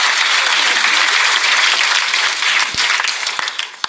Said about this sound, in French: On peut lui dire merci, on peut l'applaudir, merci.